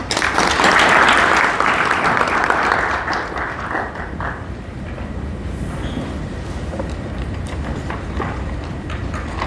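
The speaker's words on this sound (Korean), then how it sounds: "큰 박수 부탁드립니다" Audience applause at a legal seminar on apartment defect-judgment standards, a dense burst of clapping for an incoming moderator that is loudest in the first few seconds, then thins and fades into quieter room noise.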